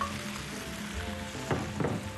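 Tofu for sisig hisses and crackles as it hits a hot pan, a steady close sizzle with a couple of louder bursts of spattering near the end.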